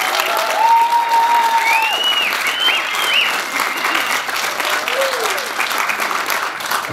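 A festival audience applauds in a dense, steady wash of clapping, with crowd noise and a few whistles rising over it.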